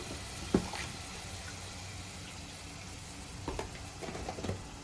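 Spiced taro root curry base fries in a pan, giving a soft continuous sizzle with a few sharp pops and light stirring scrapes, fairly quiet and close.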